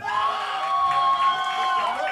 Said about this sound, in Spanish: Aplausos para Milenko.